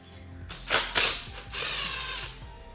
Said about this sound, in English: You can see that we have 1 bolt that has to be removed there.